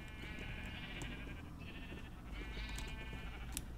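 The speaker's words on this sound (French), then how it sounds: "Mais qu'est-ce que c'est con un mouton, purée?" Sheep in the video game Minecraft bleating twice in a row, drawn-out wavering calls over steady low background noise, moderately loud and with no speech.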